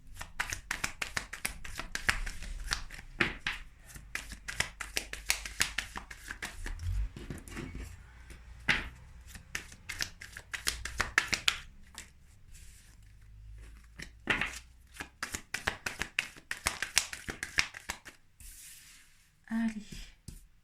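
Tarot cards are shuffled by hand in a long run of quick riffling and flicking bursts, close and crisp, with short pauses between handfuls.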